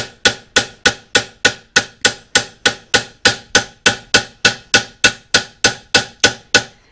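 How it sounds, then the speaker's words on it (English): A hammer strikes sheet metal held over a stake in a fast, even series of about twenty sharp ringing blows, each clang decaying quickly before the next, loud and close. "if I'm actually holding it correctly and the hammer striking correctly and doing what it should be doing, you get a good solid sound"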